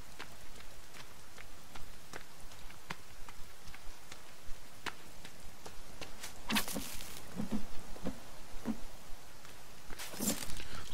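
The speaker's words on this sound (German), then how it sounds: "Aber der Regen sieht auch ganz nett aus" Steady rain in the video game The Forest, a continuous hiss of drops with irregular footstep-like patters and a few louder bursts later on, no speech.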